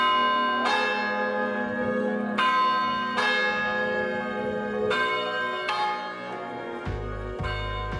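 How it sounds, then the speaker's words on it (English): Cadiz cathedral bell tower bells ring out loud and close, several strikes with long sustained metallic tones overlapping, a deeper heavy bell joining near the end. "mind your ears if you're up there when the bells go off, it's very loud."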